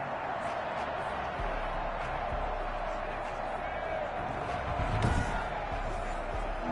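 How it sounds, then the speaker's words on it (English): A stadium crowd in the football video game Madden 21 roars as a steady, dense wash of noise for the full stretch, swelling slightly near the end, with a commentator talking over it. "That just means this crowd's going to get even louder."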